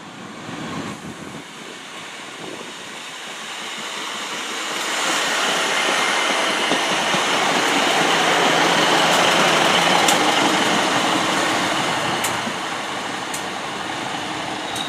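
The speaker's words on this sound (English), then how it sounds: "next train to come in is the 1222 Great Western Railway service from Weston-super-Mare to Bristol Parkway" A Great Western Railway service from Weston-super-Mare to Bristol Parkway pulls into Yatton station, a distant rumble swelling into a loud, sustained roar of wheels and engine before easing slightly.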